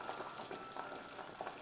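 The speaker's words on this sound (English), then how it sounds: "Then bring to a boil." Beef seaweed soup with water and soy sauce heating toward a boil in a pot, giving faint, steady bubbling and light sizzling with soft irregular pops throughout.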